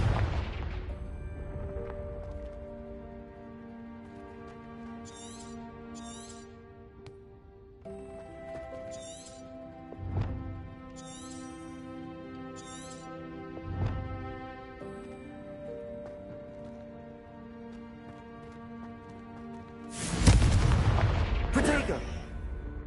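The Confringo explosive spell is cast in Hogwarts Legacy. Several deep booms land over a tonal musical bed, and a final loud blast bursts near the end.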